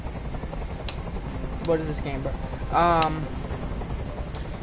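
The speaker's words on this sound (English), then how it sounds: "Tell that helicopter to get out of here." A helicopter in the video game Detroit: Become Human drones as a steady rotor wash and hum throughout, with someone talking briefly over it.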